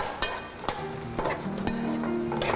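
Potato pieces for a sweet and sour dish fry in a pan, with a soft continuous sizzle broken by several sharp clicks and scrapes of stirring.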